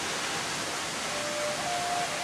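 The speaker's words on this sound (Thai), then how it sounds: "ความงามอันน่าอัศจรรย์ของน้ำตกยักษ์ ที่พบได้จากหุบเหวน้ำตกในดงหัวสาวเท่านั้น" A giant waterfall crashes down inside a forest gorge, a steady, broad roar of rushing water that stays even and unbroken, with no voices.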